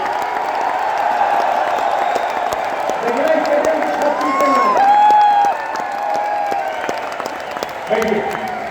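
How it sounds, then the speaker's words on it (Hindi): During a motivational speech in Raipur, the crowd claps loudly and cheers, with whistles and whoops rising and swelling near the middle before easing into continued clapping. "अब जोरदार तालियां खुद के लिए बजा के, एक जोरदार हुल्लड़ के साथ"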